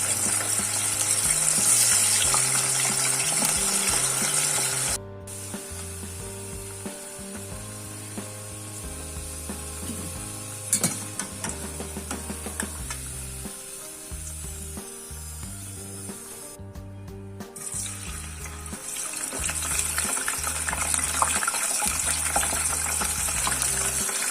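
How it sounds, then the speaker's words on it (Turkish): Steady sizzling and crackling of potato slices frying in hot oil, a dense hiss running throughout with occasional pops and a low background hum. "Kızgın yağda kızartalım."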